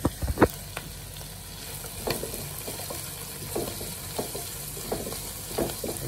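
Garlic browns in a frying pan with a soft, continuous sizzle, broken by periodic scraping and stirring knocks from a spatula at a steady, unhurried pace.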